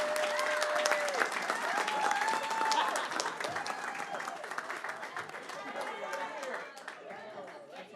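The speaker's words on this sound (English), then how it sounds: "Give them a round of applause as they come up." At a school board meeting, an audience applauds the Heritage High School campus supervisor team as they come up. The clapping is moderate and continuous, with voices and chatter mixed in.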